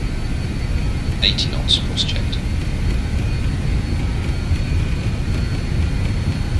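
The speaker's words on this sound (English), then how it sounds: "You'll hear the engines roll back a little bit." Jet engines of a BAE 146 on its takeoff roll in Microsoft Flight Simulator, a steady loud low roar that holds fairly even throughout, with someone speaking briefly over it early on.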